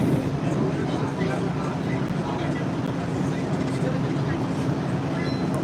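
A Boston Red Line subway train runs along the track with a steady loud rumble and faint rhythmic clatter heard from inside the car, a voice talking over it.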